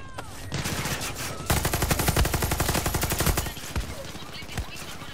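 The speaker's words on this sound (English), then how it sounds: "Who the fuck is shooting me?" Rapid automatic gunfire rattles in Far Cry 6 as enemies shoot at the player, a dense burst of machine-gun shots lasting a couple of seconds followed by scattered single cracks.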